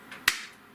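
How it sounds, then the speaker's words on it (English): A single sharp hand clap, close and crisp, standing alone against a quiet background. "And a clap."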